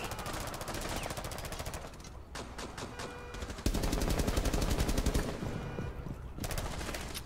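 Rapid automatic gunfire in the video game Rainbow Six Siege crackles in dense bursts, with a brief lull before a louder stretch of shots, close and harsh.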